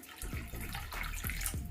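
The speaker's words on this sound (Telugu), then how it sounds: "నేను 1 గ్లాస్ వరకు వాటర్ వేసాను." About a glass of water is poured into rasam cooking in a pot, a continuous splashing pour with gurgling bubbles, close and alone.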